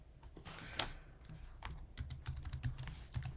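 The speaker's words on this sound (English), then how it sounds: "we type a password" Fingers tap out a password on a computer keyboard, a quick run of light, close key clicks over a faint room hum, quiet and without talking.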